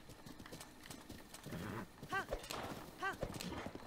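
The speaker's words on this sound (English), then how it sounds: "Get on the horse." Horse hooves clip-clopping in the video game Zelda: Breath of the Wild, a steady trotting rhythm with a couple of whinnies, while a player talks over it.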